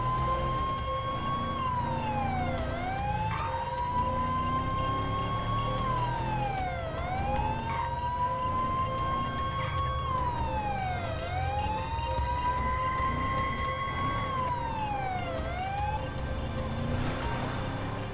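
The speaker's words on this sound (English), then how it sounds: "I don't know why you had the sirens on." Police car siren in GTA 5, a continuous wailing rise-and-fall cycle repeating about every four seconds over a steady vehicle engine rumble, heard alone without talk.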